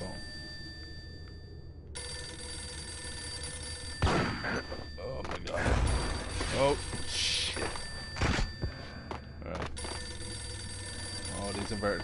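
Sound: telephone ringing in the video game Max Payne

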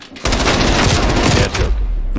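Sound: guns firing in video game Call of Duty Cold War

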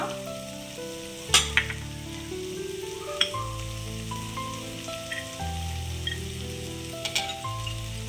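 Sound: onion frying in oil with ginger and curry leaves

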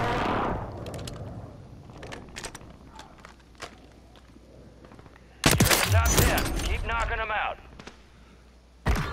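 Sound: gunfire in Call of Duty MWIII video game

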